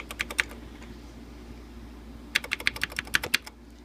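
Two short bursts of clicky mechanical keyboard typing on a Texas Instruments TI-99/4A home computer, crisp keystrokes in quick succession separated by a quiet pause.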